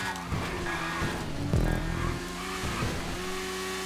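Car pulling a wheelie in GTA 5 Online, a steady engine drone with tire squeal and a skid that swells loudly midway, then eases back into the continuous revving.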